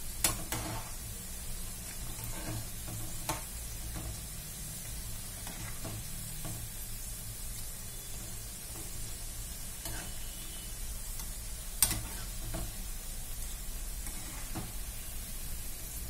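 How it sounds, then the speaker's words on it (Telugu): Wheat flour pakodas deep-fry in hot oil with a continuous soft, even sizzle and a few faint clicks of a utensil, heard alone and at low level throughout. "గోల్డెన్ కలర్ వచ్చేదాకా పకోడాలని మనం ఫ్రై చేసుకోవాలి."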